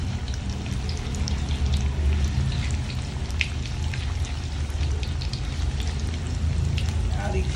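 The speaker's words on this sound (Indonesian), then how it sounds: "ya saya goreng seperti ini nggak terlalu gesem" Tuna pieces fry in hot oil in a home kitchen, giving a steady dense sizzle with scattered pops and crackles that runs throughout at moderate loudness, with no voices heard.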